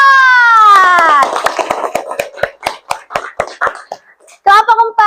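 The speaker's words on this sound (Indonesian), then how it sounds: "beri tepuk tangan untuk kelompok" A classroom of primary school children claps for a group, a burst of uneven, separate claps that thins out and scatters, opening and closing with a teacher's voice.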